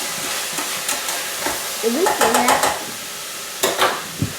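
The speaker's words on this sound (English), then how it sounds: "we're going to stir around our other vegetables" Vegetables sauté in a pan for a spaghetti sauce, giving a close, steady sizzle with clusters of quick scraping strokes as a spoon stirs them around. A voice speaks briefly over it.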